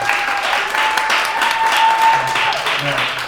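Audience applause greets a woman volunteer walking up onstage at a magic show, a steady wash of clapping lasting the whole stretch with a faint tone and some voices mixed in.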